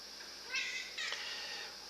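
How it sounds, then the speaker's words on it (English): A house cat meows twice, short and fairly close, the second cry a little sharper, over a faint steady background hiss. "Oh no, here comes my cat."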